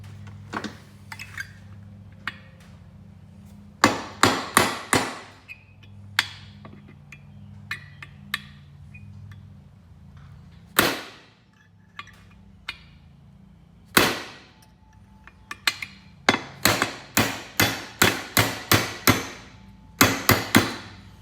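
Hammer striking a 1/8 inch punch to drive a roll pin out of a Polaris RZR part: sharp metallic taps, sparse at first, then rapid clusters of repeated blows, close and loud over a quiet background hum.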